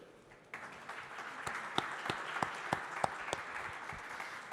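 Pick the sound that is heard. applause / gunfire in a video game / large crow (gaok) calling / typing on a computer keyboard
applause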